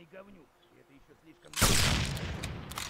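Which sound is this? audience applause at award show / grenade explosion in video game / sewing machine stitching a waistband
grenade explosion in video game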